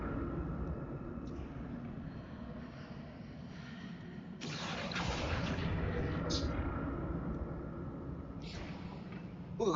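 A Confringo spell explodes in Hogwarts Legacy, a sudden loud burst with crackling decay that rolls out over a steady rumbling game ambience, followed by brief sharp magical flashes.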